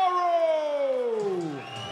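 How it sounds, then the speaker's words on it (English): A single long boo from the crowd at a pro bare knuckle boxing event in the O2 Arena, directed at a fighter during his introduction. The voice slides downward in pitch over a low murmur of crowd noise. "one or two boos in the crowd there"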